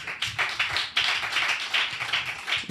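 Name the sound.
congregation clapping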